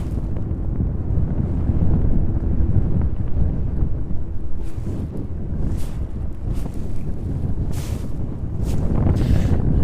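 Evening crosswind buffeting a microphone at an airfield during plane spotting at East Midlands, a loud continuous low roar of gusts with brief hissing surges, no talk.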